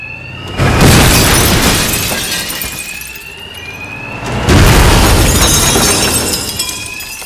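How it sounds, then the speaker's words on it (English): Bank alarms ringing during a robbery in Batman: Arkham Knight, two loud bursts of crashing, shattering noise laced with high, steady electronic alarm tones that keep sounding between them. "these thugs can't hear a thing over the alarms"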